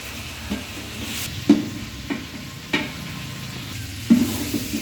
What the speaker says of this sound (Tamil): ஆல்ரெடி வெட்டி வச்ச தக்காளி மொத்தமாக போடுவேன்.